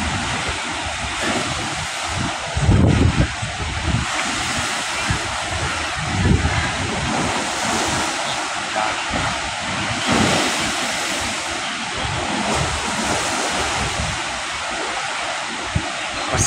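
Sea waves surge against the shore of Manila Bay in a steady, loud roar, with heavier swells crashing in every few seconds and wind buffeting the microphone throughout.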